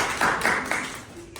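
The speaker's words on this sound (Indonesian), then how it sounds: "Oke, tepuk tangan untuk mereka" A small classroom group claps for their classmates in a short burst of a few distinct hand claps, close and fairly clear, dying away after about a second.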